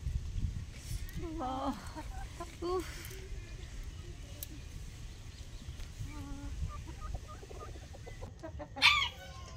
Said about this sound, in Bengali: এই যে মুরগিগুলো ধরে বদমাশি করছে, ঘরের মধ্যে ঢুকে গেছে।